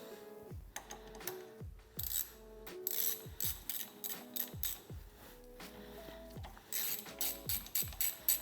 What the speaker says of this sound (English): And then we just have this M6 bolt. Goes in there, tighten the whole thing down.